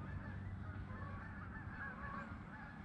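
Geese honk as they fly overhead on a calm, windless fall night, a steady layered chorus of calls drifting from a distance over a continuous low background.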